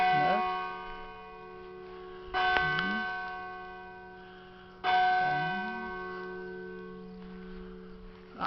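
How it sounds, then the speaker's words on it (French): Church bells toll the hour at eleven in the morning in a presbytery garden, three deep resonant strikes several seconds apart, each ringing out and decaying slowly, with voices talking faintly beneath. "ce serait les cloches d'11 heures"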